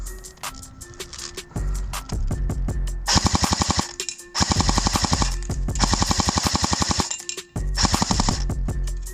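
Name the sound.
airsoft gun firing full auto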